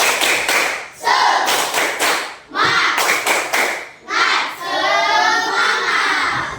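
A class of children does rhythmic 'tepuk semangat' patterned clapping, loud close bursts of claps separated by brief pauses, with a teacher's voice leading and some chanting over the claps.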